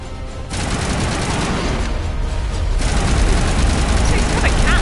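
Cannon fire in the Mass Effect video game, a dense, loud rumbling barrage of booms that swells and continues steadily throughout.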